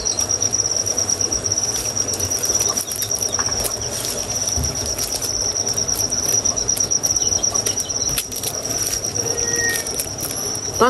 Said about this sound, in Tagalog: Parang malapit ang kuliglig